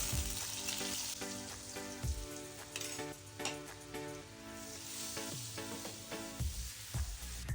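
Oil and butter sizzling in a pan for butter garlic eggs: a constant crackling fry with soft scraping stir sounds and brief low knocks, close and moderately loud, with no voices.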